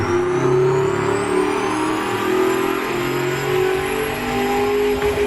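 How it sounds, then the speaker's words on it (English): A 660-horsepower muscle car engine revving in the Automation video game, a loud, continuous roar whose pitch climbs and holds as it revs up, with no talking. "Just listen to it rev up in all its glory."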